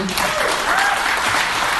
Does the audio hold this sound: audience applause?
yes